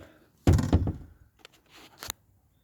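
The door of a rusty scrapyard Ford Focus MK1 opening: a loud near clunk with metallic rattle, a faint click, then a second sharp clunk, with no talking.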